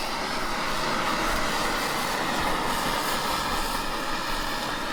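A steady, loud roaring hiss of a blowtorch flame searing a prime rib runs unbroken throughout, close by with no voices.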